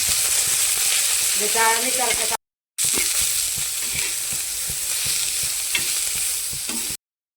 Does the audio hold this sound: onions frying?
yes